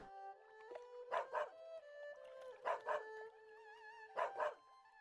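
Repeated dog barks in the video game Arc the Lad: Twilight of the Spirits, arriving in three paired bursts over a steady game music backdrop, loud and close with short gaps between each pair.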